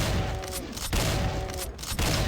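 Shotgun blasts aimed at cacodemons in DOOM, map The Undead Keep: two heavy booming shots spaced about a second apart, each followed by a short decaying roar, with no talk.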